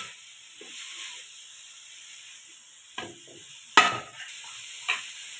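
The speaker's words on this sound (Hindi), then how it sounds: "इसको भी इसके अंदर अच्छे तरीके से मिक्स करके पका लेना है।" Chicken and vegetables cooking in a pan over moderate heat, a soft steady sizzle with a few scraping stir strokes, close and without talk.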